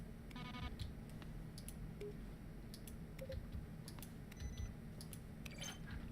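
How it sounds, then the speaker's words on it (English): Button-press sounds from the video game The Stanley Parable, each a keyboard keystroke blended with a synthesized tone, occurring as scattered sharp clicks and brief tones over a steady low hum. "A selection of sounds used throughout the game when buttons are pressed. Each sound is a mix of keyboard stroke and a synthesized tone."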